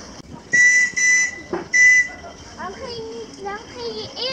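Model train whistle from LGB and other garden-scale trains at a model railway station event, sounding three steady high toots in a row, followed by children's voices chattering nearby.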